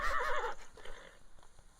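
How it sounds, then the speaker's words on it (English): Horse neighing in a Viking video game: a loud whinny with wavering pitch for about half a second, then quieter clip-clop and ambient game noise. "Yo, that horse is over there clowning me."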